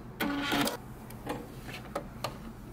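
Home sewing machine back stitching at the end of a seam on a men's fitted shirt, a short whirring burst followed by a few lighter mechanical ticks, close and fairly quiet.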